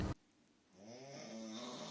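After a brief thump, a man snores softly, a low rumbling, buzzing inhale rising gradually, close by and otherwise quiet.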